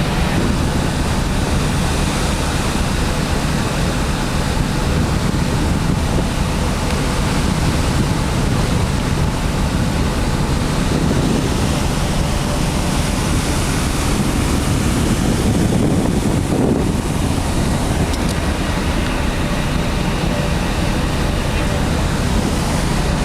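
Sea waves washing below a boat or shore at Boracay, with strong wind buffeting the microphone throughout, a loud continuous roar of surf and gusts.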